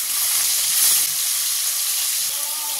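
Washed prawns hit hot oil tempered with whole spices, a bay leaf and a dried chilli, giving a loud, steady, close frying sizzle that holds level throughout with no talking.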